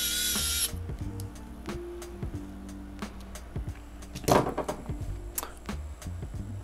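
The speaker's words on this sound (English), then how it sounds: "So now I'm just going to secure that down using some more of these little nylon nuts." Small nylon nuts are tightened onto an FPV drone frame with a small motorized driver, giving short whirring bursts and tool clicks close by, with a brief hiss at the start.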